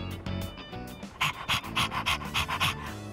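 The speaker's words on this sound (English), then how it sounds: "Ah, walking the dog, huh? I didn't know you had one." A dog panting in rapid rhythmic bursts while being walked in the video game Persona 3 Reload, close and clear over faint low background sound.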